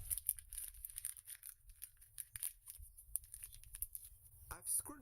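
A 10 pound sterling banknote is crumpled into a ball by hand, giving close, crackly paper crinkling in bursts with brief pauses. Speech is present in the clip.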